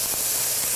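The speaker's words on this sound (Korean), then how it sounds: "이렇게 소리가 지글지글" Marinated LA galbi beef ribs sizzle in a pan preheated over high heat, giving a steady, loud, even hiss throughout.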